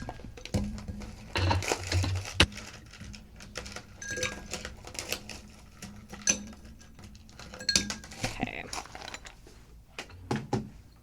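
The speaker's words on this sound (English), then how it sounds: "So next up, we want to throw some ice in there." Ice dropping and rattling into a cocktail shaker, a run of clinking, crunching knocks in bursts, close and fairly loud, with a few quieter stretches between them.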